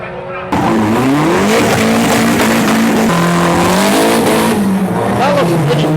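A stanced car launches hard down a drag strip at a Sunday morning car meet in Thailand, its engine rising in loud, revving pitch sweeps with tire noise, close and continuous after a brief quiet start, while a crowd talks underneath.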